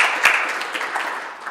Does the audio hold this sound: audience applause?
yes